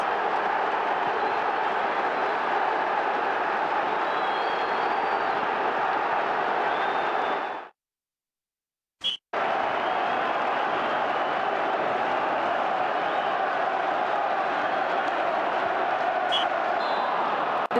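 A continuous wash of stadium crowd noise in the PlayStation game Sky Sports Football Quiz holds steady and broad, cuts to silence for about a second with a brief click, then resumes unchanged.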